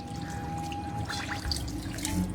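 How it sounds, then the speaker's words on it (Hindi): Tap water runs steadily into a wash basin while hands are washed under it: a close, continuous splashing trickle with no break. "ये वॉश बेसिन है, आप आराम से यहाँ पर हाथ धो सकते"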